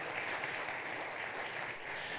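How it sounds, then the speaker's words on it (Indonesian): Steady, dense applause from a crowd at an event, cheering the leaders, heard as an even wash of many hands clapping at a distance and fairly faint throughout, with no voices on top. "Tepuk tangan dulu dong untuk para leader kita gitu ya."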